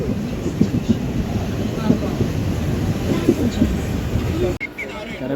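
A passenger train rolling along its rails with a steady broadband rumble and faint rhythmic clicks of the wheels, close and continuous, ending in an abrupt jolt; no voices are heard.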